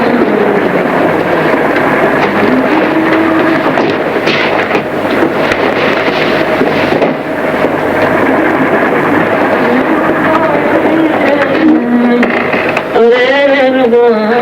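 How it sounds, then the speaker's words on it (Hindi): A train rumbles steadily along the tracks near Karachi, a dense continuous roar of wheels and carriages with a sharp whistle-like wail near the end, in a classic Pakistani film scene. "रेलगाड़ी चली जा रही है ये शहर"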